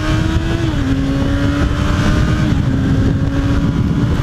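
A Honda CBR 650F motorcycle on a race track straight during a circuit riding course, its engine roaring loud and continuous up close, the tone dipping briefly as if through a gear change.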